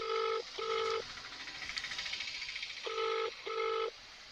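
Ringback tone of an outgoing phone call that goes unanswered: two pairs of clear electronic double rings separated by a pause, close and alone over faint hiss.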